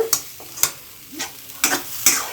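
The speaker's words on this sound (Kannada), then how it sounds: "ನೋಡಿ ಇವಾಗ ನೀಟಾಗಿ ಇದನ್ನು ಹುರ್ಕೊಳ್ತಾ ಇದ್ದೀನಿ ನಾನು ತುಪ್ಪದಲ್ಲಿ" Grated coconut roasting in ghee over medium heat for coconut laddu is stirred with a spoon, giving sharp, close scraping strokes roughly every half second over a soft sizzle.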